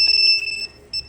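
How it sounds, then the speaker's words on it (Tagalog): A Yamaha Fazzio scooter's anti-theft alarm gives loud, steady electronic beeping in two short bursts separated by a brief gap, nearby and clear with no talking. "Kasi nag-alarm."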